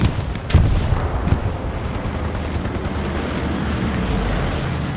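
Gunfire in the WWII shooter game Hell Let Loose: a few sharp shots open over a dense rumble of distant battle noise and rapid automatic fire that carries on continuously.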